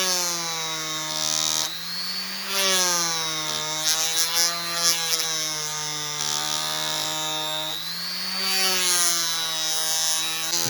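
Rotary tool with a homemade leather polishing attachment, polishing a knife blade; a steady high whine that dips and rises in pitch as the leather presses along the blade in long passes, with no talking.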